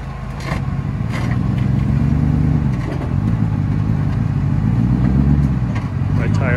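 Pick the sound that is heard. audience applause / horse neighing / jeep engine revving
jeep engine revving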